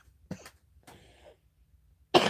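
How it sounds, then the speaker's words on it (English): Two short, dry coughs separated by quiet, followed by a loud burst of noise at the end. "My cough is getting to be a little too much"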